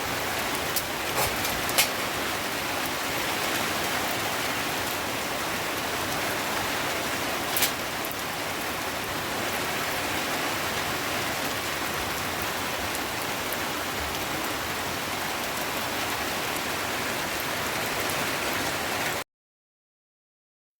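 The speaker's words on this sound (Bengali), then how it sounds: "আবারও বৃষ্টি, মুষলধারে বৃষ্টি শুরু হয়ে গেছিলো" Steady, dense rain from Cyclone Remal pours down without a break, a loud continuous hiss with a few sharper drips near the start, ending abruptly.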